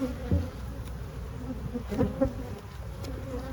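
Honey bees buzz at an open hive, a close, continuous hum with a few louder individual bees passing near, while a voice briefly speaks.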